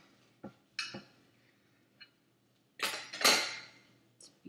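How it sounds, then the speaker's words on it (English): A knife slicing through a loaf of baked pumpkin bread, with a few soft scrapes and clinks against the pan, then a louder rasping cut near the end, close and quiet between sounds. "go ahead and cut a slice and see how it turned out on the inside"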